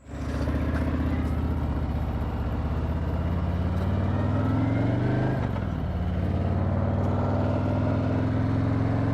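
A Harley touring motorcycle rumbles close and loud while being ridden, a deep steady engine drone that briefly drops at a gear change, then pulls again with rising pitch and constant wind noise.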